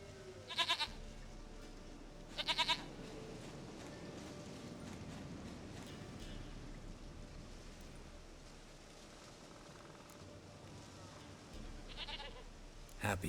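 A goat bleats in The Witcher 3, with two loud, close bleats near the start and another near the end over a steady low ambient game background.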